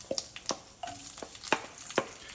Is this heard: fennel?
yes